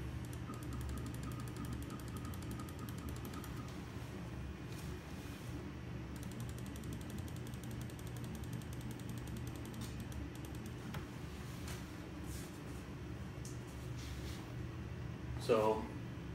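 A Shapeoko 3 CNC machine jogs its Z axis, a steady mechanical whir with ratcheting, creaking motor and gear noise running throughout, plus a brief louder bump near the end.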